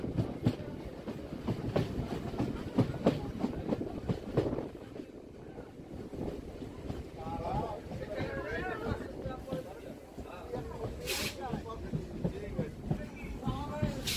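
A Namkhana local train runs on the Sealdah–Lakshmikantapur–Namkhana line, heard from on board. Wheels clatter in a steady rhythm of clicks and rumble under wind noise, with brief voices and a faint squeal partway through.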